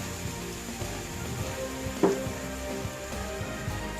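Beef sizzles in a fry pan with a splash of tequila and orange vodka, a steady close crackle with one sharper pop partway through.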